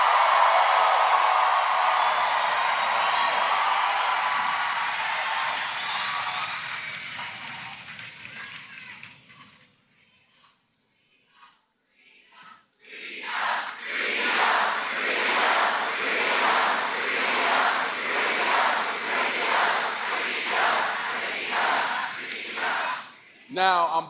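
A rally crowd in Flint, Michigan breaks into loud, sustained clapping and cheering after a brief pause that follows a spoken address, with the applause filling the second half.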